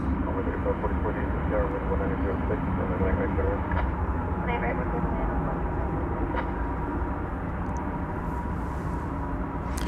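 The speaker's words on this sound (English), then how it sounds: "This is flight 12, 777-300ER, a 20-year-old aircraft." Boeing 777-300ER airliner, a 20-year-old aircraft, at DFW Airport, producing a steady loud broadband engine roar that holds for the whole stretch with little change.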